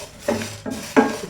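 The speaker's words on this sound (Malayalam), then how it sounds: "അതിലേക്ക് നമുക്ക് മസാല ഇട്ട് കൊടുക്കാം" Masala spices dry-roasting in a pan for a beef roast, with three short bursts of stirring and scraping against the metal. The sounds are close and moderately loud over a quiet background.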